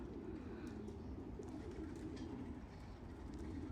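Racing pigeons coo faintly at the end of a 350-mile race in strong wind, amid a steady low rumble of outdoor noise, with occasional soft flutters and chirps.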